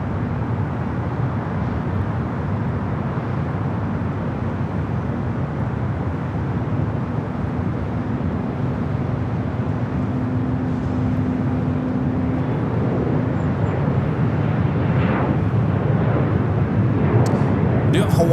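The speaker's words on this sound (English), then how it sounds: "this is Southwest 3164 coming in from Phoenix on the 737-700." Southwest Boeing 737-700 jet arriving from Phoenix at Los Angeles International Airport, a broad, steady roar of the airliner sustained throughout with no pauses, fairly loud, under continuous background noise.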